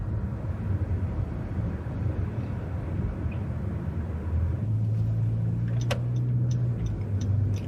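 Inside a moving car with the air conditioning off: a steady low road rumble and engine drone, with a few faint clicks or ticks near the end and no talking.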